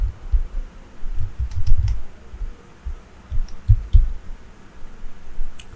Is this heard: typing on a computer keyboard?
yes